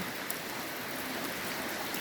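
Heavy rain pouring at one in the morning in a rubber-growing area, a dense, even wash of noise with no voices.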